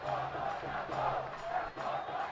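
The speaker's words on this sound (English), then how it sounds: "Crowd finding their voice." Schools rugby league crowd at Isipathana College vs St. Joseph's College, a sustained distant roar of cheering and shouting that swells and dips in waves, with a commentator's voice faintly woven through.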